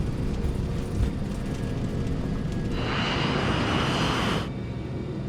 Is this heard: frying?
no